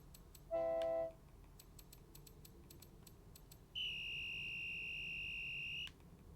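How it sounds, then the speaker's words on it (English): A short electronic horn-like tone blares once, then after a pause a longer steady high alarm tone holds for about two seconds, with faint clicking in between. "That's a horn."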